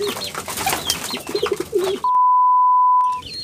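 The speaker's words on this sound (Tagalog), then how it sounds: "So, ayan mga kalapatids." Pigeons coo softly and repeatedly inside a loft for about two seconds, close and clear. A steady electronic beep follows, and then the cooing starts again.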